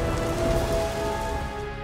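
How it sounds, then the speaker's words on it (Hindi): Steady rain pours down in a dense, even hiss that stays loud and close throughout, with no voices over it. "बरसातें"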